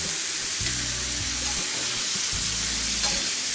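Boneless chicken and tomato fry on a hot tawa with a steady close sizzle, broken by scraping stirs and low clanking of the spatula against the iron.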